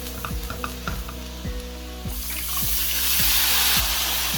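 Spices sizzle loudly in a wok as a utensil scrapes and stirs at a regular beat, and the frying swells into a brighter, fuller hiss partway through.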